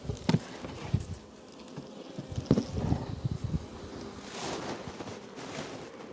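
Honeybees buzz around an open beehive outdoors in the late afternoon, a droning hum rising and falling as insects pass near, mixed with knocks, handling sounds and light wind.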